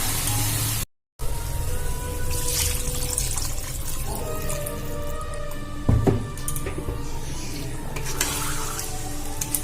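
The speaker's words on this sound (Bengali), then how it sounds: "এবার এর মধ্যে দিয়ে দিব জল" Water poured into a pot of malai matar paneer simmering in a home village kitchen, a steady splashing pour with faint sizzling beneath and a brief dropout near the start.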